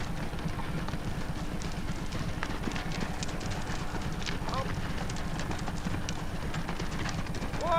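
Horses trot in an indoor riding lesson, with a dense, steady clip-clop of hooves over continuous background noise. Voices are faintly heard throughout.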